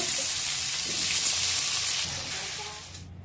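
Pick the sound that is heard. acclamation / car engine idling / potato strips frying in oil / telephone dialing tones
potato strips frying in oil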